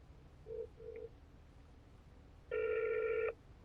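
Two short faint tones, then a louder electronic telephone ring burst, heard clearly against a quiet background.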